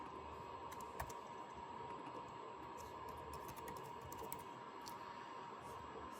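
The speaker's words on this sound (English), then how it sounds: "you're going to type in your Wi-Fi name" Keys tapped on a keyboard while a Wi-Fi network name is entered during setup of a NerdQaxe++ Rev 6.1 Bitcoin miner, faint scattered clicks over a steady background hiss.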